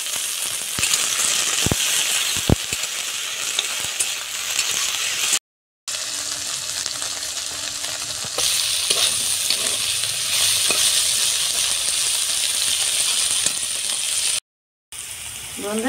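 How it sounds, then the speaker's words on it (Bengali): Okra sizzling in a pan with salt and turmeric, a loud continuous frying hiss with stirring scrapes, broken by two short silences. "বন্ধুরা ঢেঁড়স ভাজা হয়ে গিয়েছে।"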